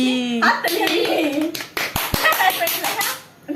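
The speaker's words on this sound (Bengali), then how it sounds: "হাততালি।" Several sharp hand claps ring out in a quick burst amid lively children's voices and chatter at a small home challenge game.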